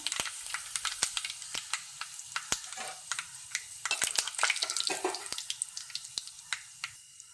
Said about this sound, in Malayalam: കടുക് പൊട്ടി അതിലേക്ക് രണ്ട് വറ്റൽ മുളക് ഇട്ട് കൊടുക്കാം